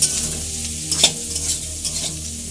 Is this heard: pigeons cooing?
no